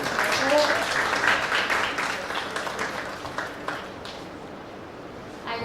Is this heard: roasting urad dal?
no